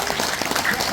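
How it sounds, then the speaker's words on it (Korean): A theatre audience in Daehangno, Seoul, applauds steadily in a dense wash of clapping, loud and close, with faint voices mixed in. "다시 한번 수고했으니까 박수 한번 주세요."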